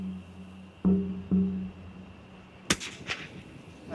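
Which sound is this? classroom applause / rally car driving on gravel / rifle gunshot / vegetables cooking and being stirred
rifle gunshot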